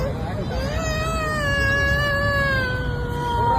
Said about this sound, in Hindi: मतलब बच्चा रो रहा है